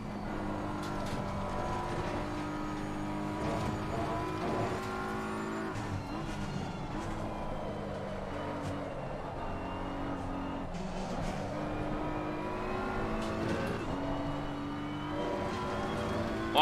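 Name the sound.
race car engine in video game Assetto Corsa Competizione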